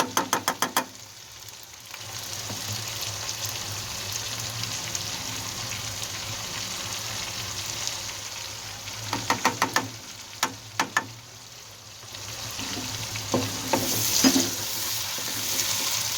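Steady sizzling and frying hiss of masala with ginger-garlic paste roasting in a karahi, broken by a few sharp metallic scrapes and clinks of stirring, with no talking.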